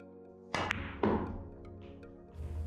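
A pool cue tip strikes the cue ball for a draw shot, giving a crisp close tap followed by a second solid knock about half a second later, then a quiet room.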